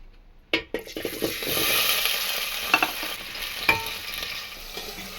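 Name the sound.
pumpkin pieces frying in oil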